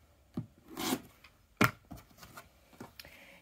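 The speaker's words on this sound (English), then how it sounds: "And now you can trim your left and your right again." A rotary cutter slices quilting fabric along a ruler to trim a half square triangle, giving a few short, close scraping rubs with quiet pauses between strokes.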